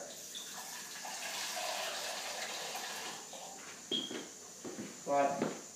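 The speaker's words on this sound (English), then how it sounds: "So I better put some water in it." Water pours steadily and quietly into a PowerPot V thermoelectric generator pot, a soft running splash that ends with a few brief clinks and knocks.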